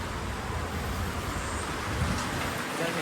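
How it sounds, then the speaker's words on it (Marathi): Rain falling steadily outside a rural home during a long shower, a close, continuous hiss of drops on surfaces that stays loud and even throughout. "पाऊस पडून राहिलाय"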